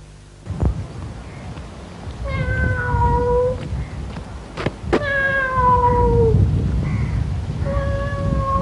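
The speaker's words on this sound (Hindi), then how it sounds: "काली बिल्ली की ही आवाज है" A black cat meows several times, drawn-out wavering cries at close range, with a couple of sharp knocks between them over a low background rumble.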